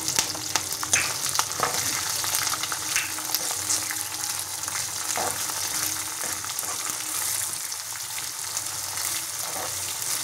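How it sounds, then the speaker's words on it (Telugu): Food fries in a pan with a steady, close sizzle and crackle. Scattered sharp pops and light stirring scrapes run throughout, with no voices. "చూడండి, ఈ విధంగా వేగాలి."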